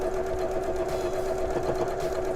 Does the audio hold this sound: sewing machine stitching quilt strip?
yes